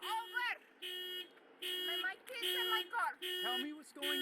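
An electronic alarm goes off during a police DUI traffic stop, sounding in loud repeated bursts about a second long with short gaps between them, and voices mixed in.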